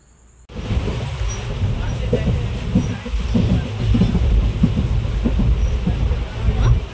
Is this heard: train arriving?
yes